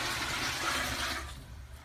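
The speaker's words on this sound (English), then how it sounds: "we're going to simply flush it into the toilet bowl with as much pressure as we can" RV antifreeze poured from a bucket into a mobile home toilet bowl, flushing with a loud, steady rushing gush that fades and thins toward the end.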